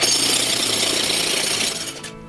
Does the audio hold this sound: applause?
no